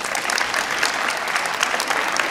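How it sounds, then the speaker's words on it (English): Audience applause for a tech department at a flag football ring presentation, a dense steady clatter of many hands filling the room, loud and close with no talk over it. "let's give a big round of applause for our tech department"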